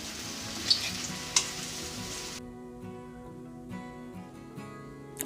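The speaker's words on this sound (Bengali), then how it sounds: "খুন্তির সাহায্যে আমি এভাবে আরেকটা সাইডও উল্টে ভালো করে ভেজে নেবো" Cauliflower muitha frying in oil over low to medium flame, a soft sizzle with a couple of metallic spatula clicks as the pieces are flipped, after which the hiss drops to a quieter bubbling.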